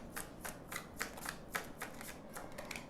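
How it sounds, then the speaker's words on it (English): Tarot cards being shuffled by hand: a steady run of crisp riffling snaps and flutters, close and fairly quiet, with no voices. "Let's get a couple of tarot cards out for you."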